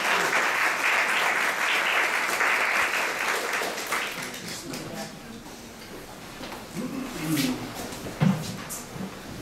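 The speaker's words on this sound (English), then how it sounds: "let's applaud Sinan" Audience applause for a speaker at a lecture, a dense round of clapping that fades after about four seconds into scattered claps, shuffling and a few voices.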